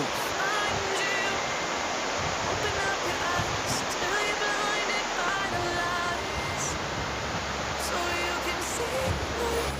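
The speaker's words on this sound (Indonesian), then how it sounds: "kita nikmati air terjun Antrokan" Antrokan waterfall in Jember roars in a constant, loud wash of falling water, with faint voices and brief shouts scattered underneath.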